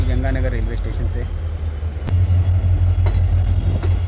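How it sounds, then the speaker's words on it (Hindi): A diesel-hauled Shri Ganga Nagar–Ambala Cantt Intercity Express pulls out of Shri Ganga Nagar station, with a low steady engine rumble, a horn-like tone early on and metallic clanks as it gets under way. "ये दोस्तों बिल्कुल अपने ऑन टाइम 1:35 पे अपनी ट्रेन निकली है श्री गंगानगर रेलवे स्टेशन से।"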